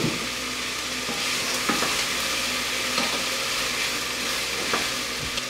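Chopped vegetables fry and caramelise in a soup pot for red lentil soup, a steady close sizzle with a few stirring scrapes and clinks, with no talking.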